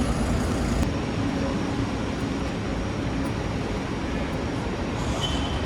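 A tram rolls past nearby with a continuous rumble and rail noise that stays loud and steady throughout, with faint wheel squeal, in a street setting.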